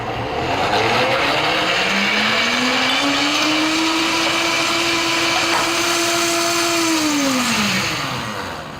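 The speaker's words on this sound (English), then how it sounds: "Now I'm gonna use the pre-programmed smoothie setting because it does all the work for me" KitchenAid blender running its preset smoothie program, a loud, steady motor whine that ramps up in pitch, holds for several seconds, then winds down near the end.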